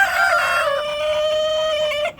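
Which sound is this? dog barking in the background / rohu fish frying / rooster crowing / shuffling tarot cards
rooster crowing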